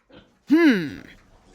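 A pig gives a single drawn-out oink-like squeal, loud and close, after a brief faint sound, then trails off into quiet.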